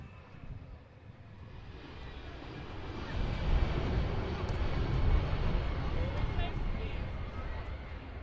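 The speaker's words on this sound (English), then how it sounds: "And another EasyJet just going out there" An EasyJet airliner departing Manchester Airport rumbles in the distance, its low engine roar swelling steadily, with faint background chatter.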